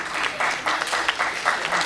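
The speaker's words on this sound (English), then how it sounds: "Everybody give yourself a round of applause" An audience at a symposium claps together, a dense, steady burst of applause that fills the room without pause, heard from within the crowd.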